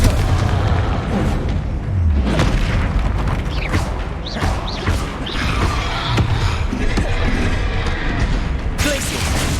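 Confringo blasting spells go off amid a Hogwarts Legacy fight with a hulking beast, a run of heavy booms and crashes over rumbling combat, loud and close, with bits of voice mixed in.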